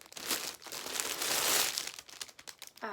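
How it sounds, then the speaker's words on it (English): Plastic packaging crinkles and rustles as yarn skeins are pulled out, a close, continuous crackling that thins into scattered crunches, ending with a brief voice. "Oh, there's going to be rustling."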